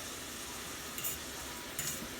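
Onion and garlic cooking in a pan, heard as a soft, even sizzle with two faint clinks and no other sounds.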